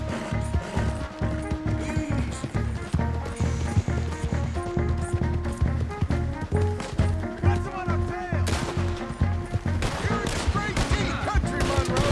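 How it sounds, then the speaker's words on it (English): A rapid, sustained shootout in the video game Red Dead Redemption, with many rifle and pistol shots cracking in quick irregular succession at loud, steady volume, some voices shouting among them. "Open fire"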